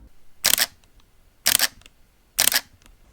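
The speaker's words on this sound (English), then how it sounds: "This is the X-T30 at shutter speed 30." Three crisp shutter clicks from a Fujifilm X-T30 camera set to a shutter speed of 30, each a short sharp snap about a second apart, close and clear against near silence.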